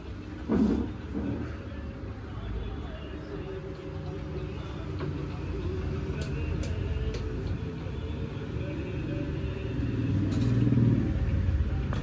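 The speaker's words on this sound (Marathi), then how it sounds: "एका बसमुळे सगळं ट्रॅफिक झालेलं आहे" A road traffic jam caused by a bus fills the background with a low, continuous rumble of idling vehicles, steady and moderately close and growing slightly heavier toward the end.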